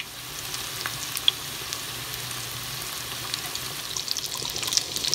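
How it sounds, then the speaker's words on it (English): Rice with peas frying in olive oil, a steady soft sizzle with faint crackles and a few light stirring scrapes, close and even throughout with no voices. "we're gonna bless it with some olive oil, warm it up, and fry them"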